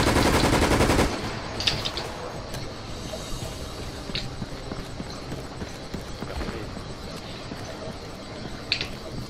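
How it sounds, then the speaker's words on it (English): Gunfire in Resident Evil: Operation Raccoon City, a dense loud burst of shots at the start, then scattered distant shots, rattles and clatter in the game's backdrop. "I hear a lot of gunshots"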